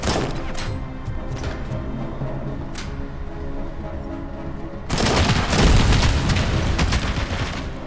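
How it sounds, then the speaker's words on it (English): Grenades explode in a Robocop Rogue City video game firefight, with muffled booms and scattered shots, then a louder, sustained blast partway through that stays heavy and rumbling to the end. "These guys are lobbing grenades like they're going out of style."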